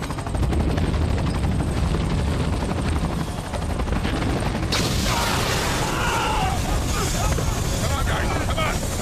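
Helicopter in a disaster movie, a loud continuous rotor roar with dense broadband noise that brightens partway through, mixed with film score and effects, with no clear talk over it.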